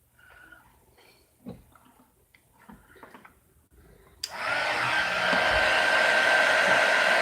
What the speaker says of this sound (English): let's go over this with a heating tool and see if we can get some more of it dry